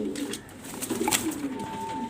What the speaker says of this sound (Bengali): আজকে দেখতে পারতেছেন আনকমন এক পের কবুতর